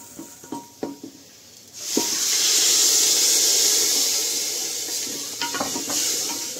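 Lentils for dal fry in a pressure cooker: a few clattering stirs and scrapes, then a loud, sustained hiss of sizzling and steam that fades slightly toward the end.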